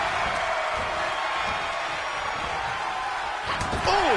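A wrestling arena crowd in WWE 2K25 keeps up a steady, broad roar of cheering through a women's match, with a brief whoop and a few sharp accents near the end.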